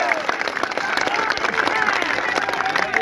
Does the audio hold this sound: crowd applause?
yes